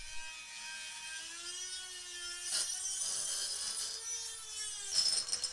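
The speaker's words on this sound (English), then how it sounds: "you're going to be making two 360-degree cuts from the inside of this pipe" A tool cuts through an exhaust pipe from the inside with a steady whirring, grinding tone, several rougher bursts of cutting, fairly quiet with no talking.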